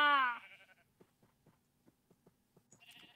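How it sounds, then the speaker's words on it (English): A sheep in Minecraft bleats loudly once at the start, followed by faint scattered footsteps or clicks and a brief game chime near the end. "Oh, and now sheep spawn closer to home."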